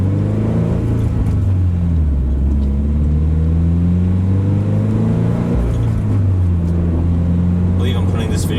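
A 2020 Toyota 86 with fresh Motul oil, just broken in and fitted with an aftermarket exhaust, drives along with a loud steady engine drone that shifts pitch as it accelerates and changes gear.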